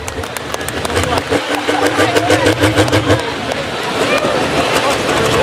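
A pulling tractor at a county fair tractor pull in Sandwich, Illinois drives out onto the track, its loud engine roaring and rumbling beneath crowd noise and an announcer talking.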